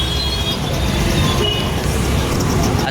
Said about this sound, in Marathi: ट्रॅफिक लागलंय फुल, बघू शकताय तुम्ही